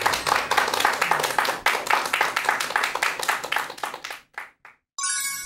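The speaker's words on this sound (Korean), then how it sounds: "큰 박수 부탁드립니다" Audience applause at a Korean lecture event welcoming a classics critic, dense steady clapping that thins into a few scattered claps and fades before a brief tone at the end.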